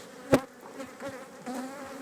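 Honeybees hum softly at a hive during a winter inspection in Kozan, Adana, a low wavering buzz close by with a brief louder thump near the start, and no talking.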